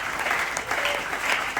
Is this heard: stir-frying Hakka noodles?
no